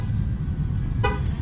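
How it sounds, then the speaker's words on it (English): A Ram pickup gives a single short horn chirp after a key fob remote-start press, brief and fairly loud against a soft outdoor background hum. "Let me hit the remote start on my key fob. 2 times should do it."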